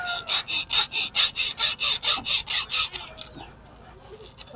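A fishing lure is sawed by hand, about a dozen quick, even back-and-forth rasping strokes sounding close and loud for three seconds before stopping, followed by faint handling noises.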